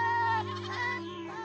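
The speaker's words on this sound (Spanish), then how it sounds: "estaban balando y corriendo emocionadas" Goats bleating: a single close, loud, wavering bleat with strong harmonics that trails off over about a second and a half.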